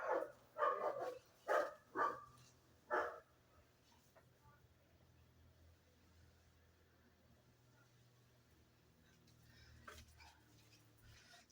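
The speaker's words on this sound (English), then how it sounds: "That's next door's dog going off on the balcony, by the way." A neighbour's dog barks from a nearby balcony in a quick burst of about five sharp barks, then falls quiet, leaving a low indoor hum and a faint thump later on.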